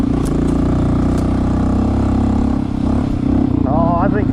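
A Honda CT 125 motorcycle pulling along in second gear, its engine a loud, steady close-up drone with revs rising near the end.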